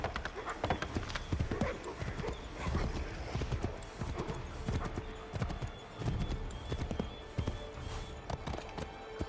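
Horse hooves clip-clop in a fast, steady rhythm in Assassin's Creed III, with occasional whinnies over a busy game soundscape.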